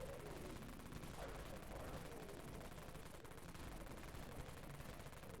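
The Dawn gun in the video game Dead Frontier fires rapidly, a dense and steady stream of shots that runs without a break across the whole clip.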